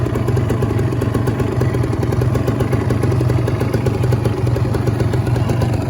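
A green 2015 Kawasaki Ninja R with a two-stroke engine runs steadily at idle, a loud, close, continuous buzzing rattle with a fast pulsing beat and no voices.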